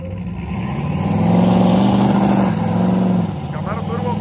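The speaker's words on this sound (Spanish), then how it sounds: "Camaro Turbo contra Mustang, 3 válvulas." A turbocharged Camaro running a drag race against a three-valve Mustang, loud engine roar rising steadily, then cutting off abruptly and settling into a lower rumble.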